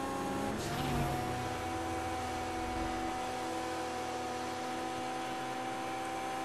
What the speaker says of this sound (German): ich habe ein gepanzertes Auto hier